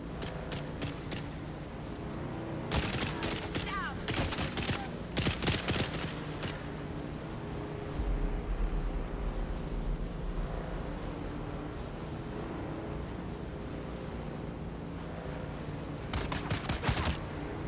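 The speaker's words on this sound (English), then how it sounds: "That guy's shooting at me already." Enemy blaster fire from a Tusken Raider in a Star Wars video game on a sandy desert world: several bursts of sharp shots come in clusters over wind and low ambient rumble, fairly loud and mid-distance.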